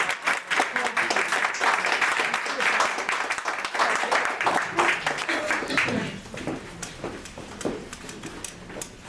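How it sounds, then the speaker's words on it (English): An audience applauds at a ghazal and Sufi concert, a full, even round of clapping that thins and fades in the last few seconds while talk is faintly heard. "A big round of applause"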